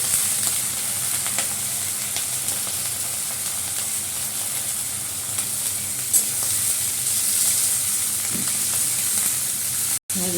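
Onions and tomatoes sizzle steadily in a frying pan after a nigella-seed tempering, a dense, even hiss held close and continuous with small stirring scrapes and no talk.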